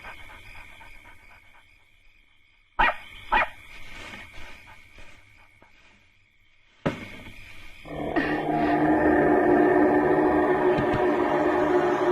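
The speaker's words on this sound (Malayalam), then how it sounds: "എന്താടി മോളെ നീ വക്കത്തുറുവിലേക്ക് നോക്കി കുരയ്ക്കുന്നേ?" A dog barks in a few sharp, separate bursts with quiet gaps between, followed by a louder, busier stretch of sound near the end.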